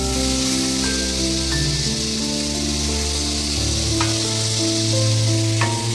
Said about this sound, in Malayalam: ഇതൊന്ന് നല്ലോണം വഴറ്റിയെടുക്കാം.